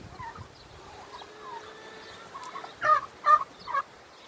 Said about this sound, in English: These are my stag turkeys.